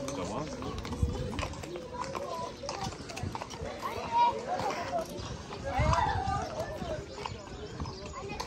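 A white horse walks at a busy outdoor horse gathering in Bursa, its hooves clip-clopping in an irregular rhythm under constant crowd chatter and nearby talking voices.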